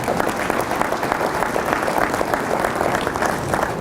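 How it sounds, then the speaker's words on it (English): Steady, full applause from an audience at a 2019 Rotary presidents-elect training seminar, thick continuous clapping from a large room lasting throughout with no talk. "Now you can applaud."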